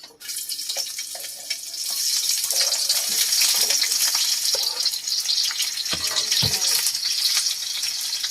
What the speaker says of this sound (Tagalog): So, magigisa muna tayo ng sibuyas bawang.